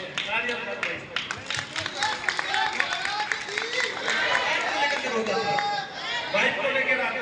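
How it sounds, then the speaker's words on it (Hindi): Crowd at a gathering claps and cheers, with continuous chatter and voices mixed over scattered applause throughout. "तालियां बजाओ भाई।"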